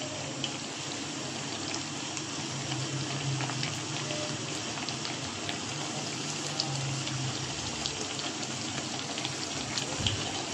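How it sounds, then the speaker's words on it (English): Eggplant (brinjal) fritters frying in hot oil, a steady dense sizzle and bubbling that holds at an even level throughout, close and continuous with no speech. "These are frying very nicely."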